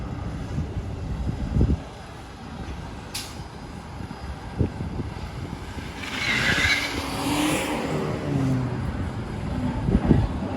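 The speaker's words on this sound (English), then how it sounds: "Had to squeal his tires in order to get in front of it." A car squeals its tires as it pulls out in front of a pedestrian on a city street in Regina. A rising screech and engine rush come in the middle of the clip over wind buffeting and footsteps, with no one talking.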